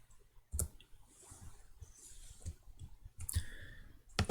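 Computer mouse clicking while editing curves in FreeCAD, with a handful of sharp, close clicks spaced irregularly, some in quick pairs like double-clicks, over a quiet background with faint rustling.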